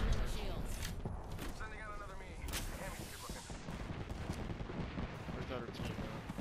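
Gunfire crackles in an Apex Legends match, with a dense volley of rapid shots and booming impacts over busy game ambience, fairly loud throughout.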